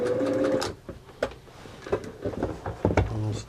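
A Singer 638 Touch and Sew sewing machine runs in short, uneven bursts as its foot pedal is pressed and eased, with a stitching whir that starts and stops several times, close and moderately loud.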